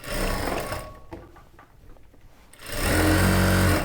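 A sewing machine stitches a folded churidar top in two loud bursts of running, separated by a quieter pause of about a second and a half.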